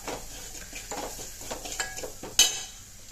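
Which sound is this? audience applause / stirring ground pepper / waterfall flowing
stirring ground pepper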